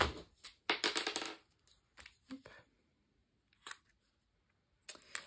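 Packaging of a six-bottle ink set being opened, close crinkles, rustles and sharp plastic snaps in scattered bursts separated by quiet gaps.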